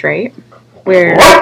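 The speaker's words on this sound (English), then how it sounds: "Sorry about my dog." A dog barks sharply and close up, a loud yelp right after someone speaks briefly.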